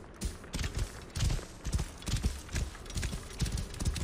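Horse hooves clop in a steady galloping rhythm as a rider travels across desert ground in the video game Assassin's Creed Origins, with faint creaking and wind under the repeated hoofbeats.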